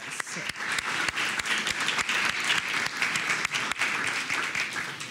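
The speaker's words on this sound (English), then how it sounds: "Let's give them a round of applause." A crowd applauds steadily for several seconds, dense clapping at even volume that begins to thin out near the end.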